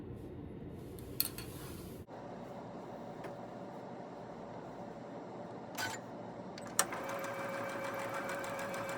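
A sewing machine runs an anchoring seam in one continuous, even mechanical hum close by, with a few small clicks and a sharper tap near the end, no talking.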